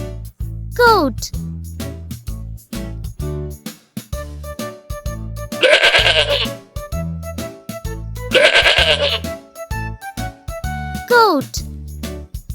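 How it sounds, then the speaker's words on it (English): Goat bleats on a farm, shown in two loud, wavering calls near the start and end, with sung narration and jingling music throughout. "Goat."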